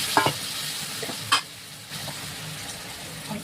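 Fish frying in an uncovered pan just as a little water is splashed in, a steady soft sizzle broken by a few sharp crackling bursts and short stirring scrapes, close and moderately loud with no talking.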